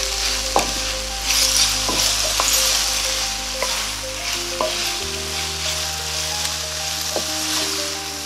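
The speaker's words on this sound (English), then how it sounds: "Next, I'll add the garlic and the tomatoes. And I'll cook for 2 minutes." Garlic and tomatoes sizzle in a pan as they are added and stirred, a steady hiss of frying with occasional clinks and scrapes of the utensil and a low hum beneath.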